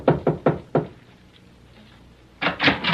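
Four sharp raps on a door in quick succession ring out close and loud, then a brief quiet, followed by another cluster of knocks.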